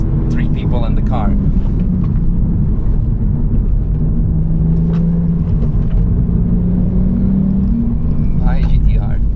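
Audi S4 B5 engine pulling hard on the Nürburgring with three people aboard, a loud steady drone and rumble throughout, with voices speaking over it inside the car.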